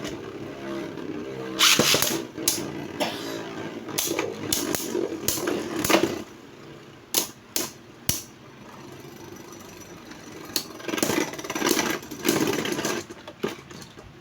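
Beyblade spinning tops battle against Buster Excalibur in a Takara Tomy stadium, with repeated sharp clacks and collisions over a constant whirring spin, close and loud, in bursts through the clip.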